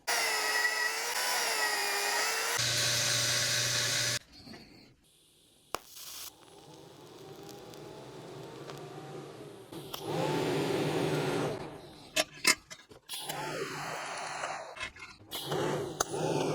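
Pieces of 3/8 inch rebar being cut in a workshop for welded handles, a loud whining power cutter running in sustained stretches, broken by pauses, clanks of metal and shorter bursts of cutting.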